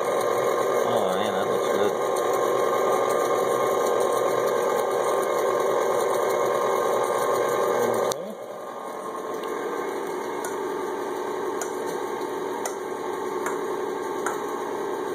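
An electric mixer blends chocolate Coca-Cola cake batter with a steady, close mechanical whir that drops to a lower, quieter hum partway through, and a voice speaks briefly over it.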